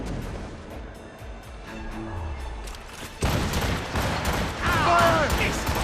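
Naval cannon fire in the game Assassin's Creed Rogue, a battle at sea with booming shots and dense crackling bursts growing louder over a steady roar, with shouted crew voices mixed in.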